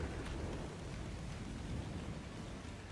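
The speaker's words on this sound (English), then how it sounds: "There's our first storm." A Ragnarok storm in Ark Survival Ascended brings steady, dense rain with a low, continuous thunder rumble underneath, broadband and unbroken from start to finish, with no talking.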